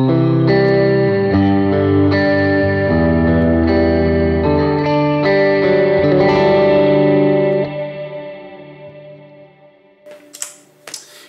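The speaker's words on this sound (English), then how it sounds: "I actually have one of Eventide's Mod Echo Verb presets dialed in." Electric guitar played through an Eventide Mod Echo Verb preset on a worship pedalboard: sustained chords bloom into shimmering modulated echoes and long ambient reverb, then decay to a fading wash with a few soft clicks at the end.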